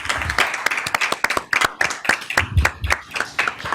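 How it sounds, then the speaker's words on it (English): Audience at a school district board meeting clapping for a new appointee, a dense burst of many hands applauding close by for several seconds with no voices over it. "Round of applause for Blaze."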